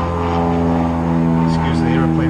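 An airplane passing overhead makes a loud, steady engine drone with strong low harmonic hum, heard in a garage during a 1967 MGB brake job; someone talks over it.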